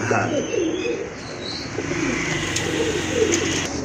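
Low, rolling pigeon coos repeat steadily over a continuous background murmur of birds, with faint chirps mixed in.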